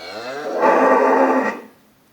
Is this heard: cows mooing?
yes